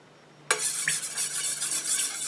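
Melted candle wax with dye is stirred in a double boiler, a steady swishing, scraping noise that starts abruptly and continues close up without pause.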